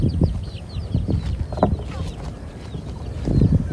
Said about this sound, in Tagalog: Ito alaga manok nila.